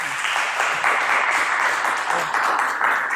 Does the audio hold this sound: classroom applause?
yes